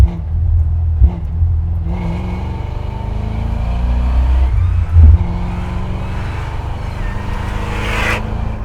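A supercharged 1965 Ford Mustang with an extreme widebody build drones and revs loudly and close, with a steady low engine roar, a couple of brief throttle blips and a rising whine near the end.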